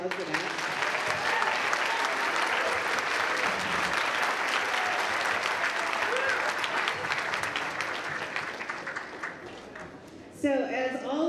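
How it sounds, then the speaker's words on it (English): A school band concert audience at Groton claps in a sustained, dense round of applause for ten seconds before it fades and a voice begins speaking near the end. "can we give them a round of applause for that?"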